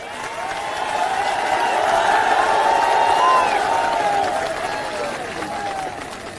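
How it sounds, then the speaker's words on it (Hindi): A big crowd at a political rally breaks into loud applause and cheering for young supporters, a broad wash of clapping and shouts that swells to a peak, then slowly eases off. "एक बार जोरदार तालियां हमारे सभी युवा साथियों के लिए।"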